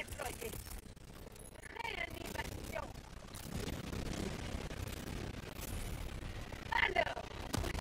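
Machine gun fire in the video game Helldivers 2 rattles along under dense gameplay noise, with sustained bursts of gunfire and booming impacts filling the mix and a sharper crackling burst near the end.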